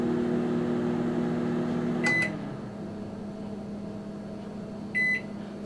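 A Magic Chef HMM1611B2 microwave oven runs a memory cooking program with a steady low hum, punctuated by two short electronic beeps, one near the start and one near the end.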